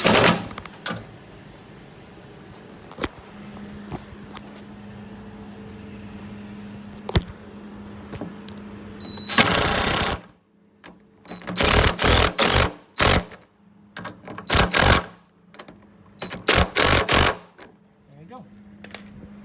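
Door mirror bolts being tightened on a first-generation Dodge, a series of loud bursts of ratcheting and clicking in quick runs with pauses between, after a quieter stretch of faint clicks and a low hum.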